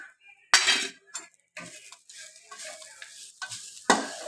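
A spoon works chutney through a poha mixture in a pan, giving close, scraping stirs with soft sizzles and metal clinks in uneven strokes, loud and unaccompanied by speech.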